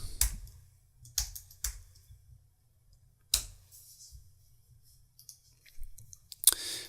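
A few sharp, close computer mouse clicks spaced irregularly against near silence, with faint softer ticks between them, while a logo is exported in Adobe Illustrator CC 2019.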